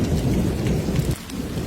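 A cartoon thunderstorm roars with heavy, dense rainfall and a deep rumble of thunder that is loud and close, then drops off a little partway through.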